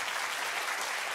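A TV comedy show's studio audience bursts into dense, steady applause, loud and continuous through a brief moment.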